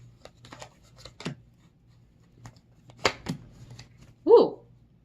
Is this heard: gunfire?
no